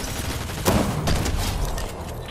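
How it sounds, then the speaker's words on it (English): Rapid bursts of gunfire in the Fortnite video game, crackling shots close together over a dense background mix for a couple of seconds. "those guys are shooting at me"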